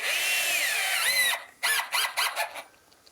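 A cordless drill whirs steadily, winds down, then fires off several short bursts with brief pauses between.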